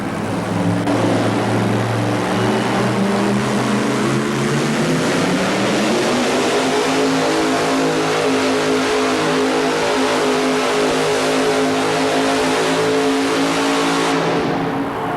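A GMC-engined pulling vehicle, its engine mounted sideways between the front wheels, revs loudly at a 1987 truck and tractor pull in Birmingham, the pitch rising over several seconds and then holding a sustained, close, roaring drone.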